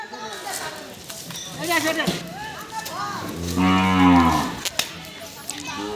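A cow restrained during a free vaccination session by a local livestock office and veterinary hospital gives one long, loud, deep moo in the second half, surrounded by people talking close by.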